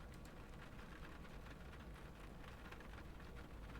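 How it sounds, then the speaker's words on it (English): Steady rain falls in a quiet, gray outdoor scene, a soft continuous patter of drops with no voices. "The sound of the rain echoed quietly all around her."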